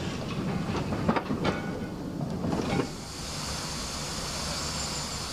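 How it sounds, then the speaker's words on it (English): A slow freight train trundles through Maidstone West station towards Gravesend, its wagons giving a rhythmic clickety-clack for a few seconds before settling into a steady rolling rumble. "A slow freight trundles through West Station towards Gravesend."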